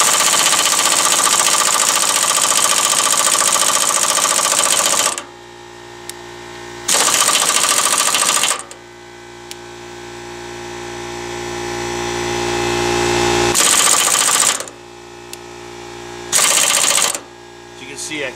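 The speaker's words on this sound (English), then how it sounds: "I just put the impact on here, and I'm just gonna hit it a few times" An impact wrench hammers at a rusted shackle on a Ford Super Duty truck in loud, rattling bursts of several seconds each. Quieter gaps with a low hum fall between the bursts.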